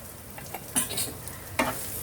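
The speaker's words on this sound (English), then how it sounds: "saute it nicely until the raw flavor of the masalas go" Garam masala and chilli powder are sautéed in a pan for ragda, an Indian street-food dish, with a soft sizzle and two sharp spoon scrapes up close.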